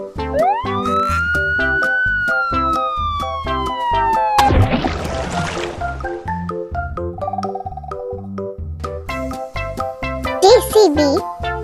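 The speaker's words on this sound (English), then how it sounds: "Police car." Cartoon police car siren in a playful children's vehicle cartoon, a rising wail that slides down over bouncy background music, followed by a whoosh and a brief high jingle near the end.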